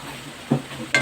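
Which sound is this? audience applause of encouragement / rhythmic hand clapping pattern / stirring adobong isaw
stirring adobong isaw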